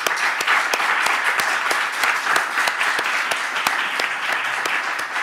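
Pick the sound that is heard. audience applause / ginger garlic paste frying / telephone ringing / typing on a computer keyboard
audience applause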